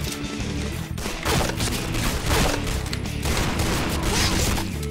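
Dense, continuous gunfire in the online shooter Point Blank, rapid overlapping shots and bursts filling the whole stretch at steady loudness with no pauses.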